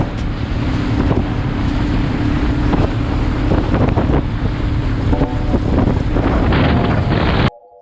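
A motorboat engine drones steadily in rough water under heavy wind buffeting the microphone, loud and continuous, then cuts off abruptly near the end.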